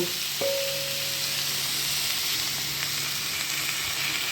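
Green chili paste is sautéed in a pan with cumin powder, coriander powder and salt for a pomfret fish curry, giving a steady, close sizzle with a faint scrape at the start and no voices.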